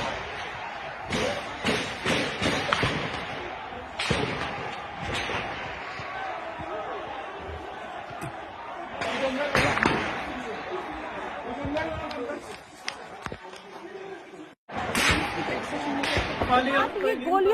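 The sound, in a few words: rattle of gunfire in protest video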